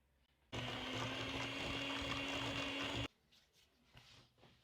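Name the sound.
kitchen robot mixer beating cookie dough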